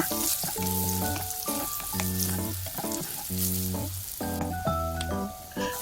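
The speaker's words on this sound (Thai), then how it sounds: "เอาน้ำมันที่เราทอดกับ เม็ดมะม่วงเนี่ยลงมาแล้วเราก็เจียวเป็นกระเทียมค่ะ" Garlic sizzles steadily in hot oil left over from frying cashew nuts, a close, continuous crackle with stirring and a few pan knocks, and no voices.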